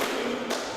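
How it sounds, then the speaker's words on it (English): A wrestler is slammed onto the ring mat with a spinebuster during a W3L wrestling match, giving a single dull impact thud blended into steady broadband crowd and arena noise, fairly close. "And slams him down."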